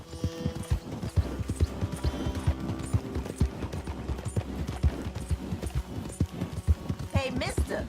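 Horse hooves clip-clop at a steady walking rhythm in Red Dead Redemption 2, close and clear beneath a quiet musical score, with a brief whinny-like rise near the end.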